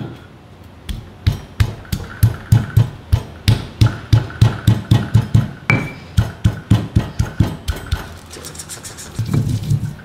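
Garlic cloves with curly red chilies and bird's eye chilies pounded in a mortar into spice paste, a steady run of sharp close knocks in even rhythm, slowing and turning to scraping at the end.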